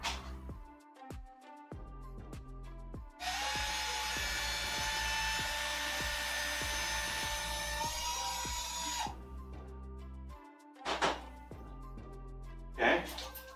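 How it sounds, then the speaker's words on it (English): A drill whines steadily as its bit grinds through material to smooth it for several seconds, bracketed by scattered knocks and handling clatter before and after. "I'm going to run the drill bit through it to try to smooth some of this stuff out"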